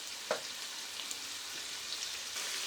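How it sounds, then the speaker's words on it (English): Chorizo and sausages fry in a pan with a steady, soft crackling sizzle. A brief spatter pops now and then, and the sound stays fairly quiet and close. "I'm just going to let these fry up a bit."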